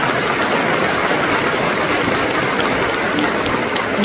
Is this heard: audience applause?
yes